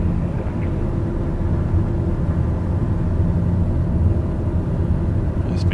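Aircraft engine on a standing-start takeoff roll in Microsoft Flight Simulator, a steady loud droning rumble that holds constant throughout, with no talk over it.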